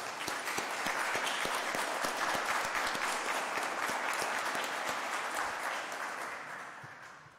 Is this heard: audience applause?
yes